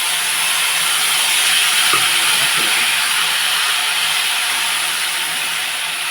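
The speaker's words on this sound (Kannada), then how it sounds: "ನೋಡಿ ಇವಾಗ ಇದಕ್ಕೆ ಹುಣಸೆ ಹುಳಿ ಹಾಕ್ತಾಯಿದ್ದೀನಿ." Strained tamarind extract poured into frying spices for puliyogare gojju, a loud, close, continuous sizzling hiss with a couple of faint clinks, steady throughout without talk.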